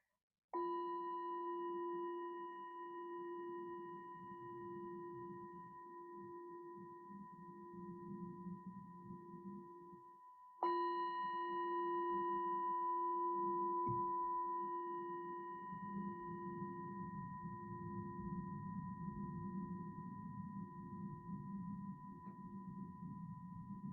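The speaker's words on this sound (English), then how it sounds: "allowing the sound of that bell just to bring us into our awareness of what's going on now" A meditation bell is struck twice, about ten seconds apart, each time giving a clear, pure ringing tone that fades slowly, with faint low room hum underneath.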